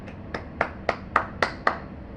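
Seven single hand claps in an even, unhurried rhythm, each sharp and close, ringing briefly in a quiet room with no voices.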